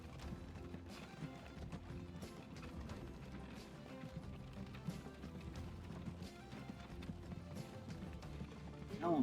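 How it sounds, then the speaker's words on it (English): Hooves clip-clop steadily from horse-drawn carts in the video game Transport Fever 2, a continuous rhythmic clatter with light rattling at moderate volume and no talking. "Come on, horse and carts, get here quicker."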